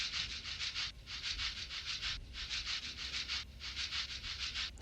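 Shaker percussion looped in a textured electronic beat: steady rhythmic bursts of bright, sandy shaking in repeated groups, close and prominent, with no voices.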